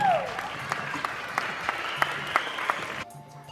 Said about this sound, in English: Round of applause for them.